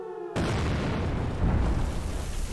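A missile explosion effect from an Unreal Engine demo bursts suddenly out of near silence, then spreads into a loud, sustained rumbling roar that continues to the end.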